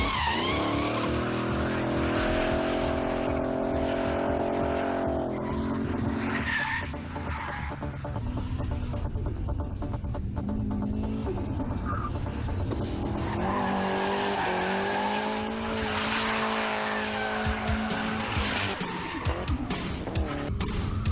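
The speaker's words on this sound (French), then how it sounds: "La Pontiac Trans Am fait de bons dérapages." A Pontiac Trans Am's V8 engine roars and revs continuously while tires skid and squeal through a drift, loud and close for the whole stretch.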